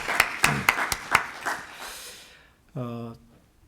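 Members of a church congregation at a Sunday service clap, a quiet handful of sharp, separate claps in quick succession that trail off, followed by a short burst of a voice.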